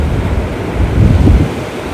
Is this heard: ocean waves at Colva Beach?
yes